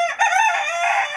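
A rooster crows loudly and close by, one drawn-out cock-a-doodle-doo call with no talking.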